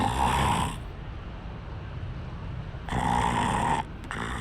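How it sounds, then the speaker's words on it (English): A character in Dark Souls III snores in two loud, drawn-out rasping breaths separated by a quieter pause, close and alone. "It's just a bunch of snoring noises."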